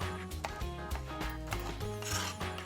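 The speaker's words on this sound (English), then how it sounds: "I'm just going to cut it into strips and cut each strip into bite-sized chunks" A knife slices through an orange bell pepper on a board, cutting it into strips: a quick series of close, crisp crunching cuts with soft scraping between strokes, no talking.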